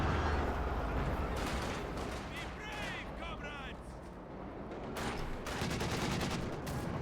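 Battle in Company of Heroes 2 with continuous gunfire and artillery blasts from units, a dense, loud barrage layered under a commentator talking throughout.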